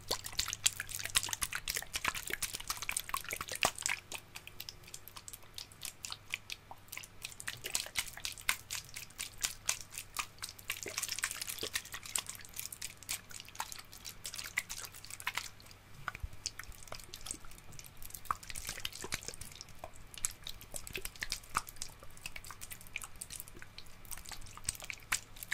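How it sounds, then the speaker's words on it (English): Close-up ASMR water sounds, a steady stream of small wet drips, clicks and squishy splashes with a faint low hum underneath, continuing without talk. "I just wanted to make some water sound."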